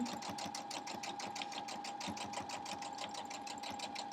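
A sewing machine runs steadily through a quarter-inch seam on a crumb quilt block of gray non-cotton fabrics over fusible foundation, its rapid even stitching rhythm close and continuous throughout with no talking.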